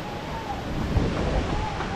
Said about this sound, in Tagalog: Buti nga walang ulan. Hangin lang.